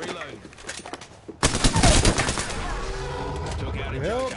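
Automatic weapons fire in the battle royale shooter Apex Legends erupts as a loud burst of rapid gunshots after a brief quieter stretch, with game sound effects and a faint voice around it.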